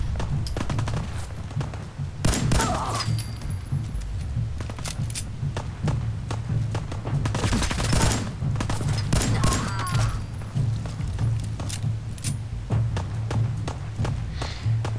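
Gunfire rings out from a building in Fallout 4 as sharp shots crack in irregular bursts and scattered single reports over a low, steady game hum, with footsteps and movement sounds between them.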